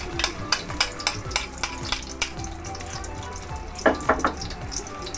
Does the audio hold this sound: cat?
no